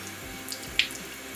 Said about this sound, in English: First, you run it underwater